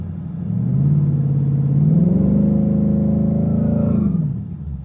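A Ford Coyote V8 is held against the brake in drag mode for a converter stall test, its engine climbing from idle into a loud sustained rev, holding briefly, then dropping back, close and alone.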